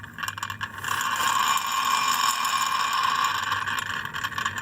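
An IKA Basic RCT hot plate magnetic stirrer, an older model under repair with the heat switched off, spins with a steady mechanical whir and a light ratcheting rattle that stays continuous and fairly close.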